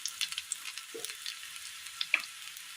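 Sliced onions are sautéed until softened in a pan, giving a faint, soft sizzle with scattered light crackles and a couple of quiet stirring knocks.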